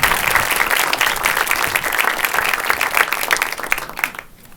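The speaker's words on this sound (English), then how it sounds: "Another round of applause for the magnificent Agnès Varda." Audience at a film Q&A breaks into sustained, loud applause, dense clapping that holds steady and then tapers off at the end.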